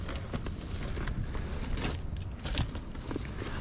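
Keys to a lawnmower jangle close by in a brief run of light metallic rattles and clinks over a steady low background rumble, with no voices.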